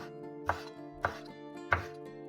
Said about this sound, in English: Remember to cut the orange peel into thin and even slices.